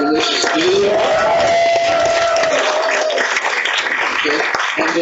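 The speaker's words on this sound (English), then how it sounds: "Let's have a big round of applause for the volunteer ladies that brought you all that delicious food." Sustained applause with scattered whoops and a whistle-like cheer rings out for the volunteer ladies who cooked food at a Taos storytelling festival, dense and loud throughout, with a few voices mixed in.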